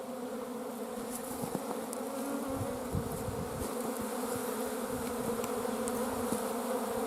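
Honeybees swarm around a screened hive vent, a dense, continuous buzz of many insects close by with occasional louder passes. No one speaks.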